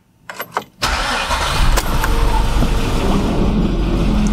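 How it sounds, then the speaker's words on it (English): A V8 Volkswagen Touareg with a failing timing chain tensioner and misfiring cylinders cranks with a few quick starter bursts, then catches and settles into a steady, loud, close idle. "We're going to start our engine up"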